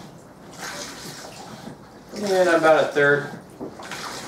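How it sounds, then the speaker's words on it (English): Water from a tap pours into a homemade camp kitchen sink tub, a steady rushing hiss that runs under a voice. "we're gonna go ahead and just fill this tub up with enough water to show you that it does work pretty well"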